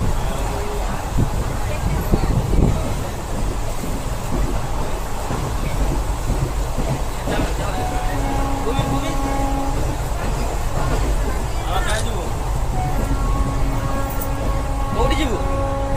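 A Khurda–Kharagpur local train runs on the rails with a loud, continuous rumble and rattle, steady throughout, with faint tonal squeals now and then and no voices.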